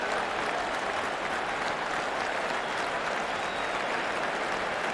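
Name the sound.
crowd at Lord's applauding Nathan Lyon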